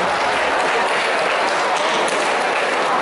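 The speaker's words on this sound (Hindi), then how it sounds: "तालियां हो जाए।" Audience applause at a Hindi Divas school quiz celebration, rewarding a correct answer: dense, steady clapping from many hands filling the whole stretch at even loudness, with no voices over it.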